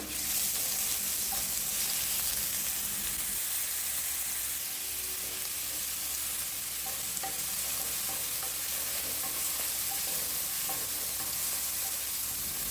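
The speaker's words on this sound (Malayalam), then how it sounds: "ഇഞ്ചി വെളുത്തുള്ളിയുടെ ഒരു പച്ച മണം മാറുന്നത് വരെ നമുക്ക് ഇളക്കി കൊടുക്കാം" Ginger garlic paste frying in a pan and being stirred, a steady soft sizzle with faint scraping of the spoon continuing throughout, no voices.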